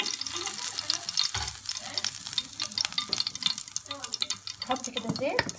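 Ghee sizzles in a pan as liver fries for a home version of Egyptian street-style liver, a close, continuous crackling hiss with stirring scrapes and faint background voice.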